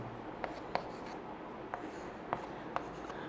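Marker or chalk taps and scratches against a board during a chemistry lesson on moles: a handful of short, distinct strokes spaced irregularly over quiet room tone, close to the listener, with no talking.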